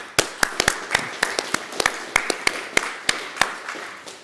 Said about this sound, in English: I want to give a big round of applause for Bibi and all the CERT LV team